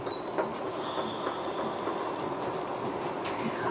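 Train at Kyiv central railway station, a steady rumbling rail roar with faint clicking wheel rhythms and a brief high squeal, continuous and moderately loud with no voices.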